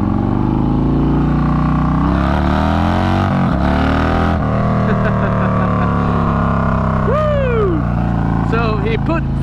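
A Harley-Davidson bagger motorcycle with a 131ci engine revs and accelerates up close, its loud, thick exhaust note rising and falling in pitch throughout, with a voice partly over it.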